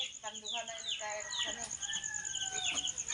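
Close-up clucking and chirpy calls from chickens, a run of short bursts and a few drawn-out notes in quick succession.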